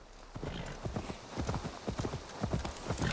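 Horses clip-clop at a steady trot in Assassin's Creed Valhalla, a dense run of close, rhythmic hoof strikes over an ambient game background.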